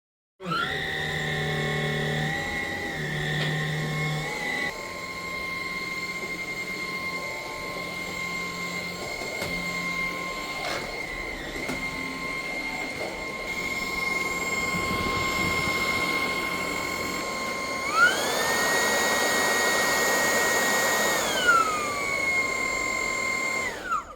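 A Dreame R20 cordless stick vacuum cleaner runs with a steady high-pitched motor whine whose tone shifts and climbs to a louder, airier roar near the end, heard alone and close.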